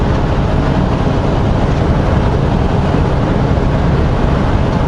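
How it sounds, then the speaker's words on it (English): A loud, continuous low rumble of a heavy freight train rolling past nearby, steady and roaring without letup. "I don't believe I've ever seen that train before."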